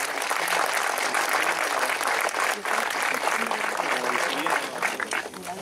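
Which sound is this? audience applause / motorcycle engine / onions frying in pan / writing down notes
audience applause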